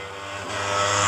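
A small carbureted motorcycle engine revs up steadily, its broad roar climbing in pitch and loudness over about a second, close and with no voices.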